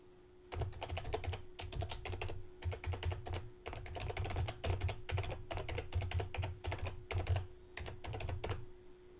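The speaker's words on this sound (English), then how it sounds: "Next, you'll type in your website URL." Fingers tap out a website URL on a computer keyboard in quick, uneven bursts of close, soft key clicks, with brief pauses between runs of typing.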